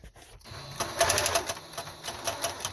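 Repeated mechanical clicking and whirring from a domestic sewing machine while stitching a peek-a-boo pajama pattern, a steady rattling rhythm close to the microphone with no talking.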